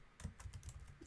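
Rapid, faint clicking of fingers typing on a computer keyboard, a quick run of keystrokes close by with no talking.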